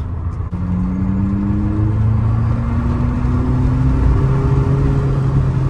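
Abarth 500e electric car emitting an artificial engine sound that climbs steadily in pitch as the car accelerates, a loud, continuous synthetic hum over road rumble with no simulated gear shifts.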